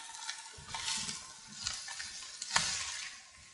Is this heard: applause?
no